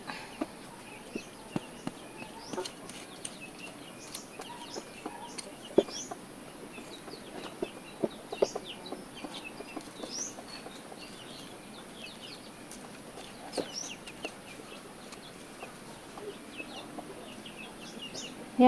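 Chickens being fed coconut worms give scattered, soft clucks and short calls at close range, with small chirps and occasional sharp taps over a quiet outdoor background.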